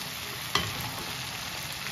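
Drumstick (sajne data) curry frying in a pan, a steady close hiss of sizzling oil with one brief stir or clink partway through, no voices.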